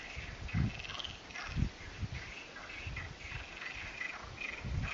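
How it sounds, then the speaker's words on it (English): Frogs croaking near a small mountain stream in Tenerife's Anaga Mountains, a series of low, rhythmic pulsing calls repeating about every half second to a second over a steady wash of running water. "that's the sound of frogs you get at this time of year"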